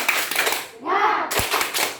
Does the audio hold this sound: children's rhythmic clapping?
yes